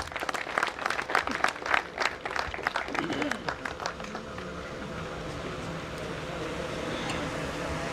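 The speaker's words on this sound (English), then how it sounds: "Everybody, can we get round of applause for reveal now?" A crowd at a wine launch breaks into a round of applause for the reveal, dense clapping that is loud at first and then thins into a steadier murmur, with talking mixed in.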